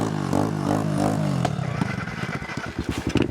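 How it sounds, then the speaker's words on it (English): A pit bike dirt bike engine revs close by, a buzzing drone that rises and falls before breaking into choppy, sputtering pulses as the throttle changes. "We're on the pit bike today."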